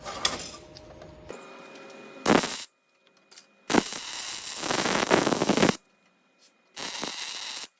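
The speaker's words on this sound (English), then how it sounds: "So I'm going to weld that." Steel plate being welded for a car boot hinge bender, with bursts of crackling arc sizzle separated by quiet pauses, close and fairly loud.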